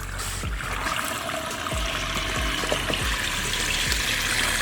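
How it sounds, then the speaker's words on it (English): Water gushes steadily from a hose into a car tire packed with Orbeez water beads. The hiss and splash are close and constant, broken by faint thumps, with no talking. "The water's going in the tire now."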